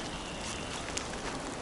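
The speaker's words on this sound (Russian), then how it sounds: "Дождь идет, не прекращается." Steady spring rain falls outside a forest hunting cabin, a soft, even hiss of drops on surfaces with one faint louder patter, no voices.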